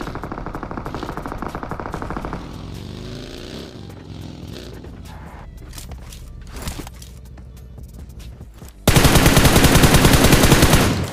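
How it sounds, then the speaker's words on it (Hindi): Automatic gunfire in the battle-royale game BGMI, with sustained rapid bursts at the start, scattered shots and movement in the middle, then a loud continuous burst of fire closing out. "फिलहाल ऊपर से सामने साइड से फायरिंग हो रही थी"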